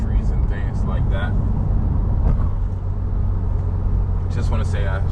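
Steady low road rumble and engine drone from inside a Subaru WRX on a daytime errand drive, continuous throughout with faint interior noises and no talk.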